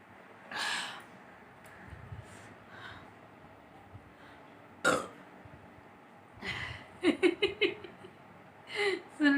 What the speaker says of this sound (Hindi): बहुत सारा डकार हो गया।